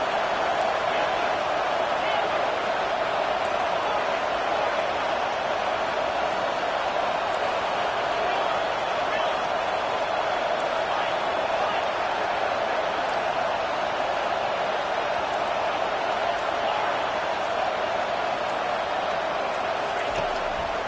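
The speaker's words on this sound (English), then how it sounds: "Decibels rising as the crowd gets behind this defense on 3rd down" A stadium crowd at an American football game roars steadily behind the defense on third down. The noise holds as a dense, sustained wall of cheering for the whole stretch, with no pause.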